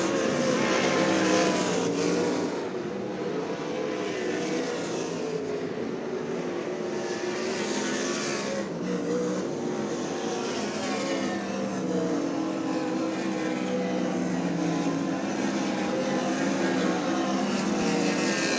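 USAC race cars lap a dirt track at Knoxville Raceway while coming up to speed, their engines a steady, loud, continuous roar of several cars at once with no clear gaps.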